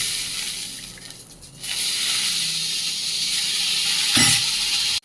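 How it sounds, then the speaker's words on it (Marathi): Cowpeas roasting in oil in a pan give a steady loud sizzle and hiss, swelling after a brief quieter start, with a stirring scrape near the end before cutting off. "चवळी भाजून घेऊया"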